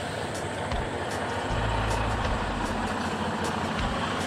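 A truck putting into gear and pulling away, with a low diesel rumble that swells midway over steady broadband road and engine noise, faint ticks scattered on top.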